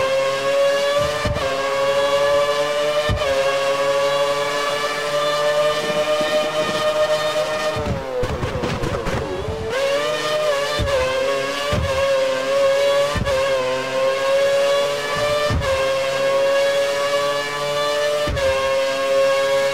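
A Toro Rosso Formula 1 car engine in the F1 2013 racing game screams at high revs during a qualifying lap in Melbourne, with repeated sharp gear shifts and a brief downshifting dip midway.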